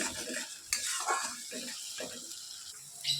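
Spice paste (masala) stir-fried in oil for a rice, potato and egg dum dish, with a soft sizzle under repeated scraping and stirring of a spoon against the pan, close and fairly quiet, with a few brief clinks.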